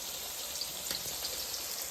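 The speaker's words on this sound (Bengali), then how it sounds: "তো এখানে পনির ভাজতে দিয়েছি।" Paneer and potatoes frying in a pan, a faint, even sizzle with a light crackle throughout and a few soft ticks, no voices.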